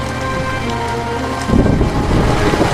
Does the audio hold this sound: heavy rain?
yes